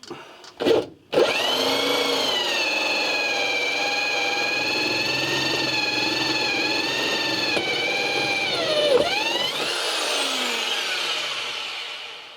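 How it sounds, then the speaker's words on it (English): A power drill drilling through metal on a camper van whines steadily at high speed for several seconds, loud and close, after a couple of short bursts, then winds down and fades out. "I'm going to drill down there and get through that metal"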